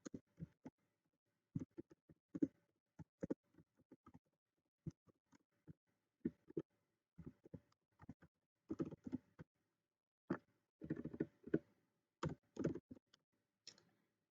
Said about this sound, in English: You're going to go ahead and type in the name.